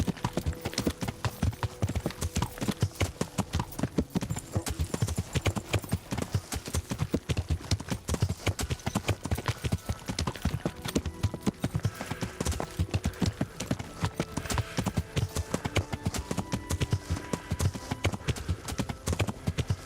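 Horse hooves clip-clop in a steady, brisk rhythm throughout while riding in Kingdom Come: Deliverance, continuous and even, with faint game ambience beneath.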